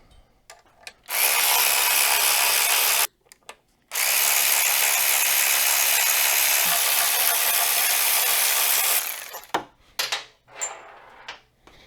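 A power tool loosens titanium brake caliper bolts on a BMW S1000RR motorcycle in two loud, sustained whirring runs separated by a short gap, followed by a few clanks of tools being handled.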